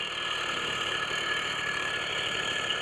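Small 80cc two-stroke engine on a motorized bicycle idling steadily, a continuous buzzing drone close by with no talk.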